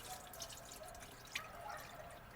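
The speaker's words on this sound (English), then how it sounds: "I'm pouring the old oil into this other container" Old motor oil pours into a container in a quiet, thin trickle with a few soft drips, faint and without voices.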